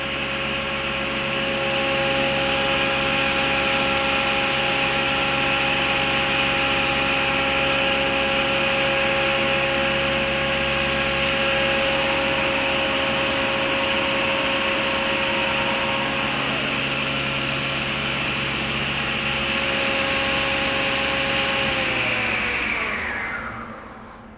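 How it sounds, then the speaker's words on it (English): An Altendorf F45 Pro Drive panel saw runs at full speed with a loud, steady whine holding level for over twenty seconds, then the tone drops as the blade winds down at the end. "We can reposition the saw blade while in full action."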